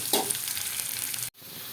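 Onions sizzling and frying in a pan for bitter gourd fry, a steady broadband hiss with a brief stir near the start, close and fairly loud, cutting off abruptly near the end before resuming.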